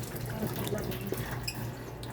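Water running from a hotel bathroom tap in Osaka in winter, a steady close rush of flowing water that carries on without a break.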